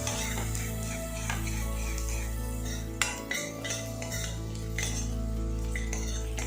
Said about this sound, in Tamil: இது எல்லாத்தையும் நல்லா ஃப்ரை பண்ணிடுங்க